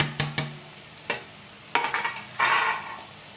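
A spoon stirs grated coconut into ivy gourd curry in a pan, with a few sharp clinks against the metal followed by scraping and a soft rustling swirl, close and fairly quiet.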